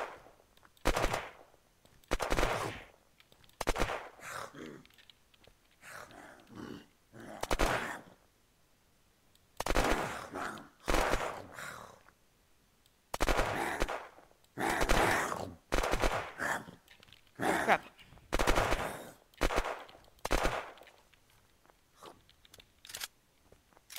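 Gunfire from the video game Unturned comes in repeated bursts and single cracks, separated by short quiet gaps, fairly loud and without any voices over it.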